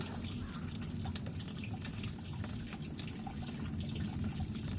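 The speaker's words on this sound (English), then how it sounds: "So this is going to get a nice rinse." Water runs steadily over a glass tumbler during a thorough rinse, a continuous close splashing and trickling with dripping, heard alone without talk.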